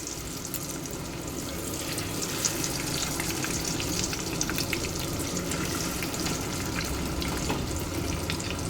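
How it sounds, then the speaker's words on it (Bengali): Chicken pieces fry in a pan for honey chicken, producing a steady, dense crackling sizzle that runs throughout at moderate loudness, with no talking. "চলো এটা টুকটুক করে ভাজা হতে থাক"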